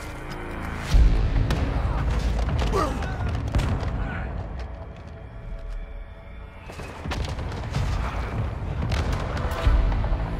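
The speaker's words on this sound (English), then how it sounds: "I'm gonna mortar strike myself." Mortar strike explosions in Call of Duty DMZ, a series of heavy booms and rumbling blasts with scattered gunfire, loud and close, continuing over about ten seconds with no talk.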